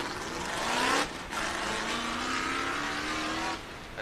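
A Datsun race car passes on a circuit track, its engine swelling loudly as it approaches, then dropping and holding a steady roar before fading off near the end.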